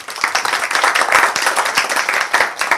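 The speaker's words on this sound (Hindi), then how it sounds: "उनके लिए बहुत सारी तालियाँ" Close, lively clapping from a small audience at a theatre acting-class showcase welcoming an honoured guest, with individual hand claps distinct in a brisk, uneven rhythm.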